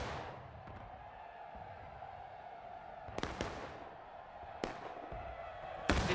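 Musket volley fire in the video game War of Rights, sharp cracks in the distance, a few separate shots spaced a second or more apart over a faint background hiss, without speech.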